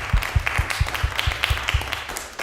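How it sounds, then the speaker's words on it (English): An audience claps at an electroacoustic improvisation concert. The applause is brief, with evenly spaced claps forming a steady rhythm at moderate loudness. "let's give them a round of applause"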